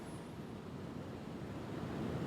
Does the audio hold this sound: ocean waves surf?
yes